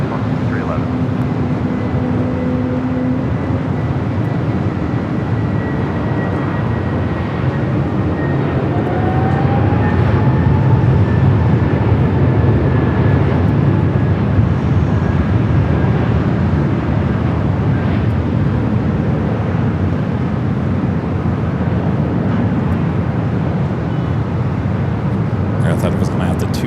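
A Delta airliner rolls for takeoff on runway 24 left at LAX, a loud, steady broadband jet roar holding for the whole stretch, with a tone that rises and a radio voice speaking over it.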